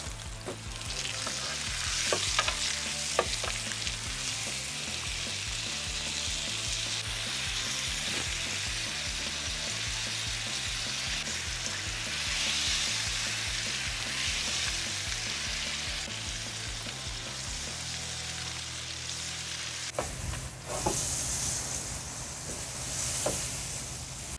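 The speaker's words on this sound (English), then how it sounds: "I'm willing to let it sit there for a little while and let that brown butter do its thing and build a little bit of a crust" A thick ribeye steak sears in brown butter, giving a steady, close sizzle and crackle that lasts throughout, with a brief louder burst of spattering near the end.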